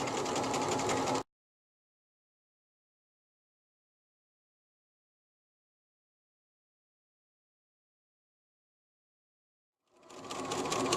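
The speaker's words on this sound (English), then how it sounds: "We're going to sew down this edge at 5/8 of an inch." A sewing machine stitching a pillowcase seam whirs steadily for about a second, falls completely silent for several seconds, then starts up again at the end.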